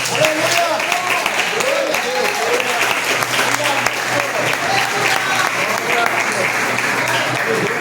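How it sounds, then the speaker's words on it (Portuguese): A church congregation breaks into loud, sustained applause, dense steady clapping from many hands filling the room, with voices and shouts mixed in beneath it throughout. "E as palmas logo em grande."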